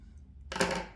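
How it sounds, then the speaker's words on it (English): Scissors snipping through crochet yarn at the end of a row: a single soft, crisp snip close by, alone with no talking. "And then cut the yarn."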